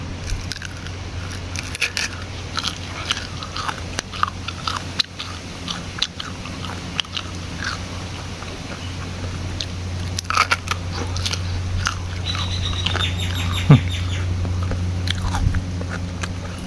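Grilled buffalo skin, salty and tough, being chewed up close, with repeated biting and crunchy, crackling snaps throughout and a low steady hum underneath.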